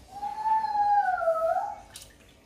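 Warm water pours into a pot of yam porridge as a steady, close, tonal gurgling stream that shifts slightly in pitch, then stops and leaves a few faint drips.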